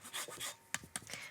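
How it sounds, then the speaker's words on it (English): Lemon zest grated for a Dijon mustard and vinegar dressing: a few soft, close rasping strokes followed by light taps, brief and quiet. "and the zest of some lemon"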